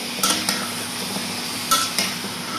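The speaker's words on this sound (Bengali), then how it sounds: "ভাজিটা একবার নাড়ে দিব।" Utensil stirring vegetable bhaji in a pan, a few light metallic scrapes and clinks spaced over a steady soft kitchen background.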